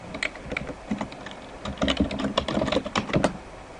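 Fingers tap out a username and password on a computer keyboard at a login page, a quick irregular run of close keystrokes with brief pauses between bursts.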